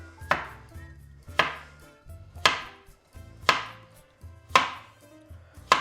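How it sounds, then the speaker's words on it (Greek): A knife chops vegetables for briam, sliced on a diagonal about half a centimetre thick, with six crisp, evenly spaced cuts on a board, each a sharp close knock with a short decay. "λοξά κόβω και αυτά"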